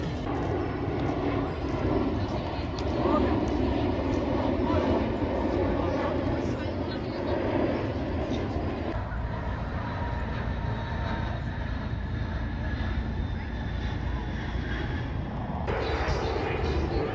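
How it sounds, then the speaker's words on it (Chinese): Airplanes roar overhead at the Lincoln Memorial in Washington, D.C., at night, a steady far rumble that swells and fades over crowd chatter from tourists. "林肯脚下的游客和头顶的飞机都络绎不绝。"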